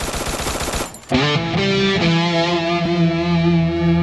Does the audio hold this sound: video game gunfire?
yes